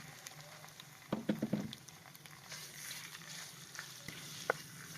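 Half a kilo of chicken mince frying in ginger garlic paste, a soft steady sizzle with a few clattering stirs of a utensil near the start, quiet and close.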